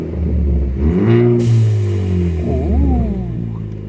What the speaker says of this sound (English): Start her up, give it a quick rev, and if you hear a big whoosh, I think we did something right.